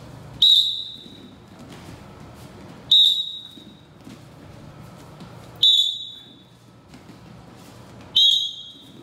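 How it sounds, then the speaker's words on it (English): Four sharp, shrill whistle blasts sound at evenly spaced intervals during a martial arts drill, each loud and short, separated by quiet stretches of faint room noise. "Down block on the whistle."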